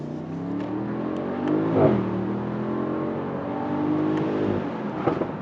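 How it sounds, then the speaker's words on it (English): A Mercedes-AMG SL63 with the AMG Performance exhaust revs hard and close, its loud, throaty engine note swelling and rising in pitch with sharp crackles, and no voices present. "I can't get over that AMG Performance exhaust"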